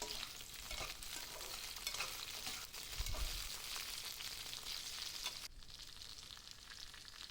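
Pointed gourd pieces fry in hot mustard oil in a wok, giving a steady close sizzle with scraping stir bursts throughout, easing slightly toward the end.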